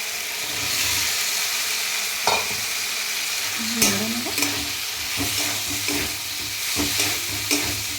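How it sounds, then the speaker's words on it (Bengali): Soybean chunks and potato sautéed with spices in a pan, a steady sizzle punctuated by several distinct spatula scrapes and knocks against the pan, close up and without talk. "কষে নেব কিছুক্ষণ কষে নিয়েছি"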